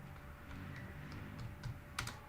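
Quiet keystrokes on a computer keyboard as an SQL insert query is typed, with soft irregular clicks and a couple of louder taps near the end, close and with no talking.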